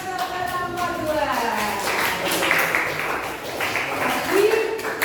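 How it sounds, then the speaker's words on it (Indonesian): Applause for a student group in a classroom, a few seconds of moderate scattered clapping mixed with voices. "Tepuk tangan untuk kelompok 2."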